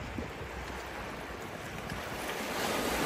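Sea waves wash back down a beach as a steady broad hiss of surf, mixed with wind buffeting the microphone and building slightly toward the end. No speech is heard.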